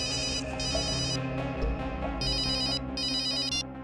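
A telephone rings indoors in a television crime drama scene, repeated bursts of bright electronic trilling separated by short gaps over a steady low background hum, moderately loud and without any talk.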